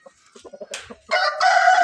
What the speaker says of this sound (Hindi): ये देखें मुर्गे को।